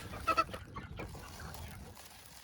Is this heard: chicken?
yes